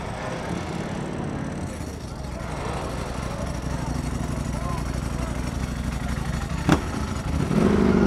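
A Ducati V4R motorcycle's dry clutch rattling at a crowded night car meet, a continuous low engine idle with a metallic clatter under nearby chatter, plus one sharp brief click.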